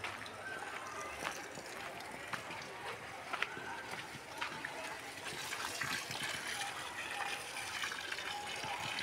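Water runs steadily from the delivery pipe of a 1 hp single-phase solar-powered Texmo motor pump, a continuous close gush that lasts throughout, with someone talking over it.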